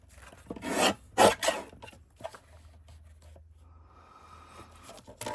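Dry rasping scrapes as the white paper layer is scraped off a matchbox, a few loud strokes early on, then quieter intermittent rubbing and faint scratching, with no voices.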